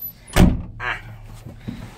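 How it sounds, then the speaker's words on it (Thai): Cab door of a Kobelco SK135SR excavator swings shut with one sharp slam, followed by a brief rattle and faint cab noises, close by and with no talk. "เดี๋ยวผมปิดประตูก่อนนะครับ"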